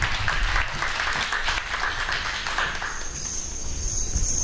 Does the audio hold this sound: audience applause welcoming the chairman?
yes